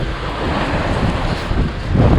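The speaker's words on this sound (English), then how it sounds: "on the corner with the wind blowing and the waves crashing" Strong wind roars across the microphone as waves crash and wash along the Mediterranean shore at Nice, a loud, continuous rush of surf and gusts with no voices.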